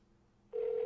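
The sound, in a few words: telephone ringing during outgoing call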